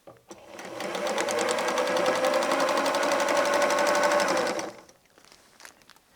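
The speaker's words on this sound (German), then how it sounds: "Und dieses Stück Naht nähe ich mit einem Viertel-Inch ab." A sewing machine stitches a quarter-inch seam on quilt binding, a rapid, steady mechanical whir for about four seconds before stopping, followed by a few faint clicks.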